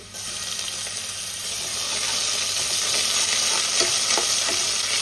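Close, continuous sizzling of ginger garlic paste frying with onions in a pan, growing louder after a second and holding strong, with a few light stirring clicks.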